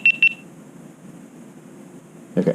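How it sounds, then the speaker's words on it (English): A GoPro camera beeps as it shuts down: two short, high, clear beeps in quick succession near the mic, followed by a low steady hum and a brief muffled knock at the end. "wait for the 7 beeps"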